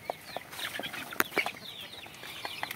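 A native desi hen clucks in short, scattered bursts close by in a rural yard, sharp calls standing out over a low background with soft rustling between them.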